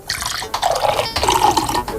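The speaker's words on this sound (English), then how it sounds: "I'm going to pour one after the other into a different glass" Water poured into a glass, a close, loud splashing gush with a rising bubbly fill tone in two quick bursts.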